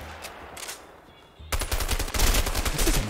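Rapid automatic gunfire from an MP5-type submachine gun in the co-op video game A Way Out comes in bursts that start strong at the halfway point, preceded by a few scattered shots and quieter game ambience.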